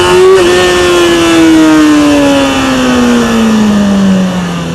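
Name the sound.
motorcycle accelerating hard in first gear for a wheelie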